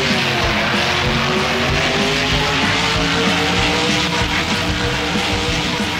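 Loud, steady engine roar from a monster truck pulling away in the BeamNG Drive driving game, with tire noise and a continuous revving drone that holds throughout without any talk.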